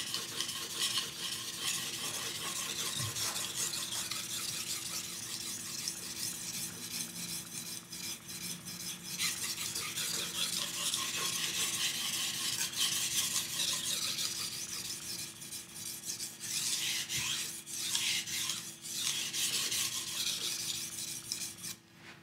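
A knife blade is worked back and forth on a sharpening stone in steady, continuous raspy strokes, close up and fairly quiet, with no voices.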